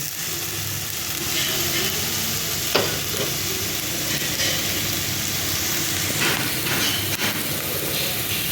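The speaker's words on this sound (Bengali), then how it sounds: "আলুটা ভালোভাবে ভাজা হোক" Potatoes fry in a pan over a high gas flame, giving a continuous close sizzle and hiss with occasional stirring clatter, and no one speaks.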